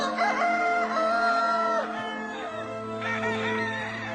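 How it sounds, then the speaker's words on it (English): Roosters crow in overlapping calls, several drawn-out cock-a-doodle-doos close by, with a steady background hum underneath. "It's the roosters."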